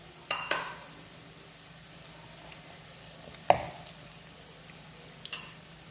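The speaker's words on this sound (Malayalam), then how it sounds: "അപ്പോൾ വേഗം അത് നമുക്ക് പൊരിച്ചെടുക്കാൻ കഴിയും" Jackfruit seeds fry in a pan with a quiet, steady sizzle. A few sharp scrapes and clinks from stirring break through near the start, in the middle and near the end.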